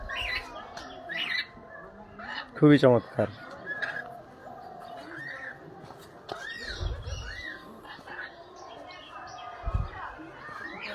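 Parrots in a hillside zoo aviary near Sreemangal, Sylhet, give sharp squawks and chirps, with one loud burst of calls early on and scattered calls after it, heard alongside a man's nearby speech.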